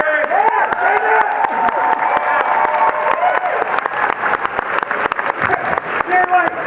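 Convention audience at DragonCon 2017 applauding and cheering for the Guardians of the Galaxy makeup team, sustained clapping with whoops, under a voice talking over a microphone.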